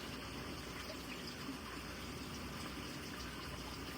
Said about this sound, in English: Let it fill up with water.